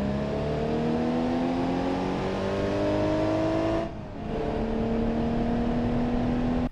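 Cars driving in BeamNG.drive give a steady, rising engine drone whose pitch climbs as they accelerate, with a brief dip in the middle before the engine sound settles back in.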